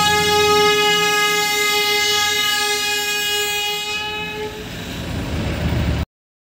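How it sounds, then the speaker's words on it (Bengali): The Darjeeling toy train passes close by on its hill line, sounding a long, loud steady horn blast over the rumble of the cars, which continues after the horn stops. "এটা হচ্ছে টয় ট্রেন।"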